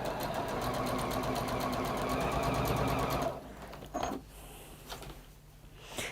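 A sewing machine stitches steadily in a fast, even whirring rhythm for about three seconds, then stops, leaving faint handling clicks in a quiet room.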